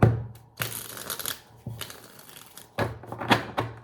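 Tarot cards shuffled by hand, several crisp riffling bursts of roughly half a second to a second each, separated by short pauses, close and fairly loud.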